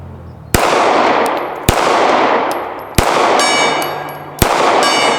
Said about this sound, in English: Let's put one on the gong while we're playing.